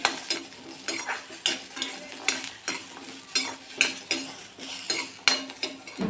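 Onion and coconut stir-fried in a little oil, a spatula scraping the pan in regular strokes roughly every second over a soft, steady sizzle, close and clear with no talking.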